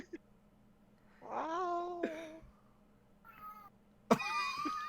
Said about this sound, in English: Is that a cat that I'm hearing in the back?